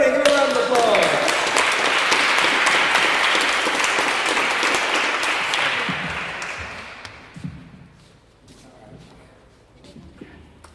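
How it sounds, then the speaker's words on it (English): At a spoken word and waffle night, a room of listeners gives a performer a loud round of applause that holds for about six seconds and then thins out and dies away, leaving scattered claps and faint room noise. "Everybody give a round of applause!"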